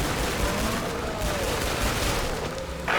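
Doomstick shotgun blasts in Killing Floor 2, loud booming gunfire amid dense combat noise, with a few heavy shots running together across the moment.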